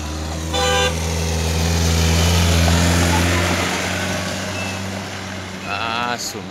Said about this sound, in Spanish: Ah, su madre, ahí se ha cruzado otro carro.